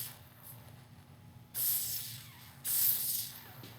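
Two bursts of lubricant sprayed from an aerosol can into a Harley-Davidson motorcycle clutch cable, each a loud, close hiss lasting about a second, with a short pause between them.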